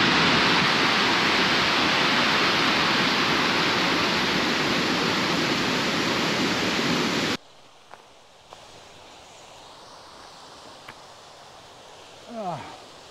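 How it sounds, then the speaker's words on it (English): Waterfalls in a mountain valley on a walk from Keswick to Langdale give a loud, steady rushing roar for about seven seconds, then give way to a much quieter outdoor background with a few soft footsteps. "there's some lovely looking waterfalls up there"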